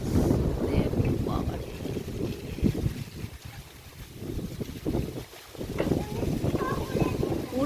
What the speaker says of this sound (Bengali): আজে কেমন হাওয়া দিচ্ছে দেখো, পুরো মনে হচ্ছে একদম ঝড় বয়ে যাচ্ছে।